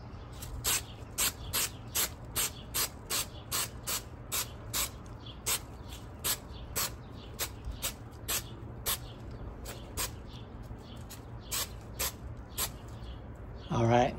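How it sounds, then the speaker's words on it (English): Repeated short bursts of tack glue spray adhesive hiss in a fairly steady rhythm onto a Tesla Model 3 speaker cover backing, close up, over a low background hum, ending with a brief louder rustle. "let's go ahead and spray the backing"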